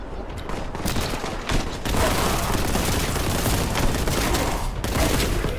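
Rapid, sustained bolt gun fire from the Warhammer 40,000: Boltgun video game, a loud, dense barrage of overlapping shots and blasts with no pauses.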